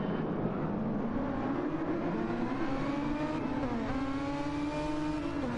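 Race cars starting a race in a Super Formula One video game, a dense whine of engines rising in pitch together as they accelerate, steady and loud with no talking.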